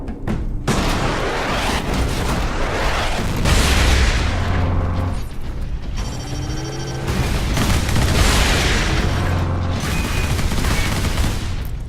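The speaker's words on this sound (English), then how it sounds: "One las cannon shot will kill a turret." Heavy booming lascannon blasts and rapid weapon fire from a Warhammer 40,000: Space Marine game battle, loud and continuous with rumbling impacts throughout.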